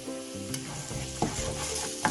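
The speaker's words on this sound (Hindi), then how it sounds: "अब हम इसके अंदर प्याज को शामिल करेंगे और 5 मिनट तक हल्की आंच पे" Chopped onions frying over low heat in a pan with softened potatoes, giving a steady close sizzle with a few scraping stirs and no talk.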